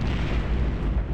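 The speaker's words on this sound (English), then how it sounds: "This absolute menagerie of explosions is totally what I would have assumed to be a fair fight." A dense barrage of explosions from the video game Deathtrap Dungeon, a continuous deep rumbling roar of overlapping booms at steady loudness with no talking.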